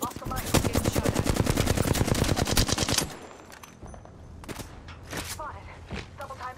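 Apex Legends gunfire rattles in a loud, rapid automatic burst for about three seconds, followed by scattered single shots and footsteps, with voices speaking over parts of it.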